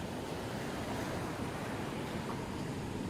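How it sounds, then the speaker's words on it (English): Steady wind-like noise, rushing and broadband like gusts or distant surf, opens a prog rock track, holding evenly throughout with no voices. "It's wind blowing."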